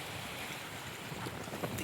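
Strong wind buffets the microphone on an island in Mindoro, a continuous rushing roar with gusty swells near the end.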